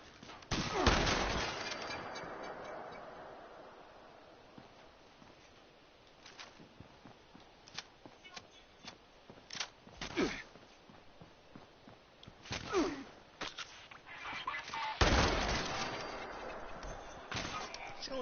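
Shotgun blasts in the video game Fallout 76: several loud, booming shots at irregular intervals, close up, among quieter clicks and footsteps, with no voices.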